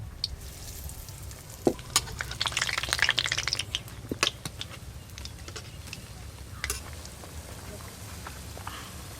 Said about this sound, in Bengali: এবার চপগুলো ভেজে নেব।